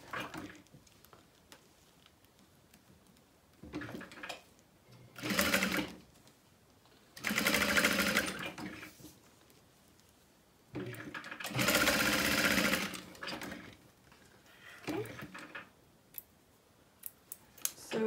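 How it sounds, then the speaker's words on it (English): A sewing machine top-stitches along the long fabric edges of a small wristlet wallet, its rapid mechanical whir running in several bursts of a second or two, close up and separated by quiet pauses. "we're going to top stitch along the raw, or the long edges"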